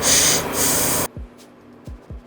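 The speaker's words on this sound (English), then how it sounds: "Sorry if you hear me breathing super heavy." A few sharp nasal snorts and exhalations, close and fairly loud, following a burst of hissing noise.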